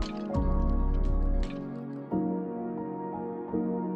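Wet squishing and dripping as Korean vegetable pancake batter is mixed in a bowl, a heavy thick stir at first, then softer liquid strokes and drips.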